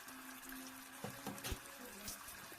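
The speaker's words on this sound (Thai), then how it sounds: "เติม หัวกะทิลงไป" Coconut cream poured into a simmering salmon panang curry, a steady liquid splash with a few brief pops and clinks over a constant background hiss.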